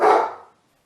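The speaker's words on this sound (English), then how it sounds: "and that is my dog" A dog lets out a single loud, close bark that fades quickly into silence.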